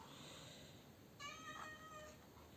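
A house cat meows once, a clear mid-length call over a quiet indoor room hum, near and moderately loud.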